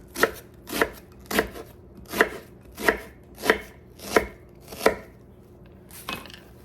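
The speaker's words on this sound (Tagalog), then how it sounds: "Okay, hiwa tayo ng sibuyas." A knife slices through an onion on a cutting board in the kitchen, giving eight crisp, evenly spaced chops close up, then one softer final cut, with no talking.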